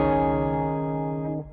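A sustained distorted electric guitar chord, played through a Mooer Micro Preamp pedal into an amp's effects return, rings out thin and buzzy, decaying slowly before cutting off near the end; no voices.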